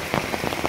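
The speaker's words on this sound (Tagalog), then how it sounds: "Kay ulan namang gyud, kusog kayo ang ulan" Heavy rain pours steadily onto a surface, a dense, unbroken hiss with pattering swells and no voices.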